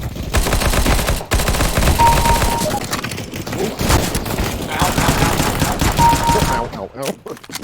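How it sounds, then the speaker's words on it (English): Rapid bursts of gunfire and bullet impacts rattle against a roof in the survival game Valheim, dense and loud for several seconds with brief breaks, while someone talks and yelps over it. "Yeah, those be bullets. Right on the roof."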